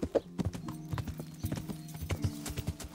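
Rhythmic clip-clop of horse hooves trotting at a steady pace in Kingdom Come: Deliverance, close and fairly loud, with faint background music tones underneath.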